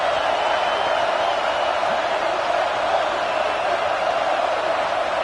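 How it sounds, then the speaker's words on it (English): Football stadium crowd roaring to back the defense during a red-zone stand, a dense, steady roar of thousands of fans that holds evenly throughout with no breaks. "And here comes the noise. This crowd is trying to inspire this defense to make a big red zone stop."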